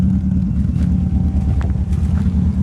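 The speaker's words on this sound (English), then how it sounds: "Got a slight, almost cammy, choppy sound at idle." A car engine idles with a slight lumpy, choppy cam-like lope, a steady low rumble running close and continuous, with wind noise over the microphone.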